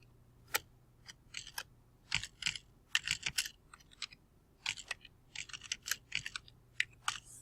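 Fingers type on a computer keyboard in irregular bursts of quick, close clicks and taps while entering a name into a program, with short pauses between keystrokes in an otherwise quiet room.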